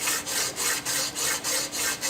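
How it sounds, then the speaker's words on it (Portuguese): Wet sanding of a material sample on sandpaper under running water in a materials laboratory, a steady rhythmic back-and-forth rasping of about eight even strokes, close and alone without talk. "Aí eu lixo"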